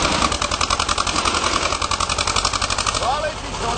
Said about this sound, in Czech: Tyhle traktor nový, záběhu, vole.